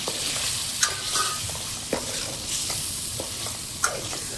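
Shrimp are stirred through a cooked gravy, a close bubbling sizzle underneath with several distinct scraping knocks of the spoon against the pan.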